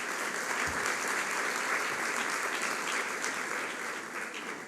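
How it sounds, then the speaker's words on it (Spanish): Steady, fairly soft applause from an audience greeting panelists at a televised electoral tribunal forum, an even wash of clapping that eases slightly toward the end. "Les pido que les demos un aplauso a nuestros panelistas"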